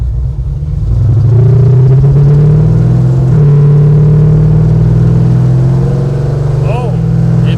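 A 1972 Monte Carlo with a blueprint engine rumbles loudly at close range, revving up and holding a deep, steady roar with small dips and swells in pitch throughout.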